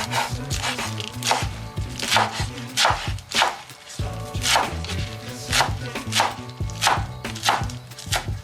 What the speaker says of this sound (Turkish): Şöyle rokaları doğrayalım.